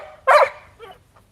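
Dog giving a single sharp close bark followed by a couple of softer short yips, the whole burst lasting about a second in a quiet room.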